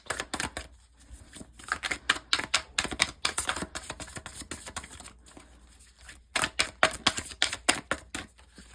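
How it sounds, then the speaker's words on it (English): Tarot cards are shuffled quickly by hand, giving dense rapid riffling and flicking bursts that pause briefly and resume, close and crisp. "let me shuffle a little bit this way, just to kind of clear everything super fast"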